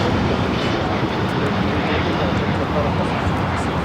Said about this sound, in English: This is Virgin Atlantic Flight 8 taking off to London Heathrow on the 787-9 Dreamliner.